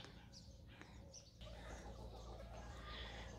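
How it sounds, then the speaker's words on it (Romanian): Domestic chickens about three months old huddle in their pen in the evening, making faint, soft chirps and clucks over a low, steady background. "Vreau să vă arăt acum puțin și păsările."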